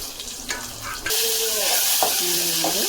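Curry leaves and spices hit hot oil in a home kitchen pan, where crushed garlic is also being cooked, bursting into a loud, steady crackling sizzle after a second of quieter stirring, with spoon scrapes continuing through it.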